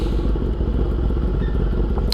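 A motorcycle engine idling steadily after a cold start on a late-night ride, a continuous low rumble close by with a small click at the end, no talk.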